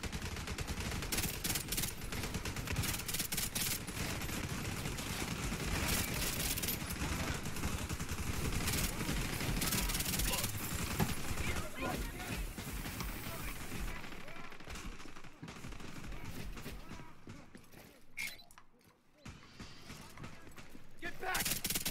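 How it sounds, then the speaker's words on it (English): Sustained 93R pistol fire in The Division 2, a continuous dense rattle of shots and impacts during a firefight, mixed with someone talking, thinning out briefly near the end before picking up again. "I really like the 93R. It's got a lot of recoil, but you can't half spam the bullets out on it."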